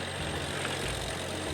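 A tractor engine runs steadily during snow plowing, a continuous low rumbling drone that holds even and close for the brief stretch.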